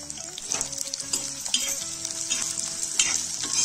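Two long, thinly sliced onions frying in hot oil, a bright, continuous sizzle with repeated scraping and stirring strokes from a spoon in the pan, close and clear, with no voices.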